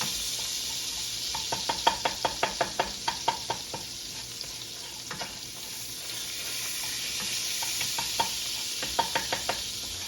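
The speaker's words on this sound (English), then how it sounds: "we're just gonna scrape all of the leftovers into the skillet" Leftovers scraped into a sizzling skillet while making shrimp and spinach pasta, quick bursts of metal scraping and tapping on the pan over a steady hiss of frying, up close.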